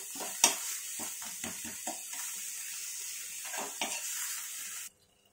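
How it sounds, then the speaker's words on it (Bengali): Ginger and green chili paste stirred in a little oil in a pan over low heat for a katla fish curry, a steady soft sizzle with several scraping spoon strokes, then cutting off abruptly near the end. "এবার একটুখানি ওই তেলে হালকা তেলে এরভাবেই নাড়াচাড়া করবো"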